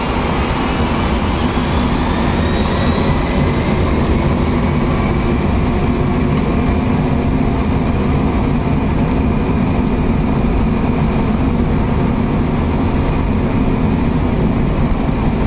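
Boeing 747-100 engines at takeoff thrust heard from inside the cockpit, a loud, constant broadband roar with a faint rising whine, steady and unbroken throughout.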